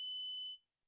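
An Arduino Uno buzzer sounds one steady, piercing high-pitched beep set to a 3000 Hz tone. It is loud and close, runs for about half a second and then cuts off into silence, with no talk.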